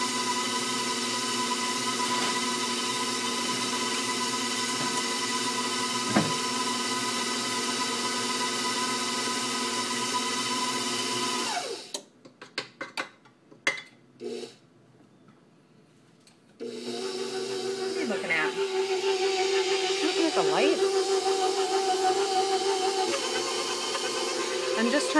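An electric mixer kneads bread roll dough in a home kitchen, a steady droning motor hum that stops briefly midway with a few knocks and then resumes, loud and close.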